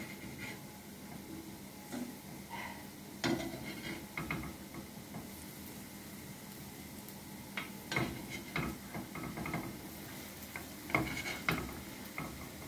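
Semolina shortbreads being turned over and cooking in a dry pan without oil, a faint soft sizzle with scattered light scrapes and taps from flipping, quiet and close.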